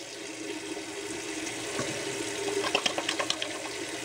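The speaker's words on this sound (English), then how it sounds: "it has to be warm water so your hands get nice and clean" Hands washed with soap under warm water from a tap, a steady rush of running water close by with splashing and rubbing that grows busier toward the end, and no talk.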